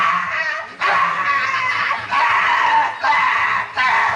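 A performer in a Tamil village stage drama imitates a female dog's barking with his voice, a series of loud, drawn-out yelping howls in four bursts separated by short breaks.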